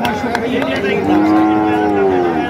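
A bull lows with a long, deep, drawn-out moo at a crowded cattle market, loud and close over a busy background of voices and crowd noise.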